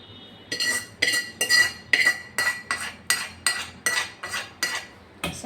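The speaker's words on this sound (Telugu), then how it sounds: "సో నేను ఈ పోపుని ఇందులో వేసేస్తున్నాను." A spoon stirs a hot tempering into peanut chutney, clinking against the vessel in about eleven regular, sharp metallic strokes, close and alone with no talk.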